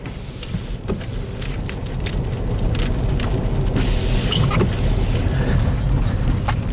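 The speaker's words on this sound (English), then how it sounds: "Even the wipers sound different." Windshield wipers on a car dusted with sand give rhythmic gritty scraping strokes over a steady bed of road and cabin noise.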